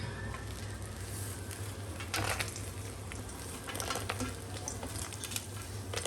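Peanuts frying in hot oil while making instant pulihora mix, giving a steady close sizzle and bubbling throughout, with a few louder crackling bursts and occasional stirring.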